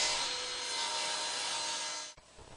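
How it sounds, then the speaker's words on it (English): A power saw slices through a wooden apron rail for a child's table, giving a steady, loud, close whine that holds for about two seconds before the cut ends abruptly and the blade winds down. "Next I cut my apron rails to the exact length that I need and trim them to the desired width."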